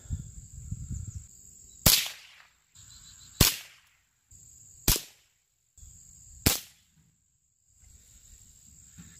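CCI Quiet .22 rimfire rounds fired outdoors: four sharp, quiet cracks spaced about 1.5 seconds apart, each followed by a short decay, with crickets chirping steadily in the background.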